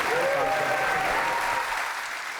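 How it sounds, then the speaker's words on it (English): An audience applauds students at a presentation, a dense, steady burst of many hands clapping that fades slightly at the end, with a faint voice briefly audible underneath. "let's give a big round of applause for all these students."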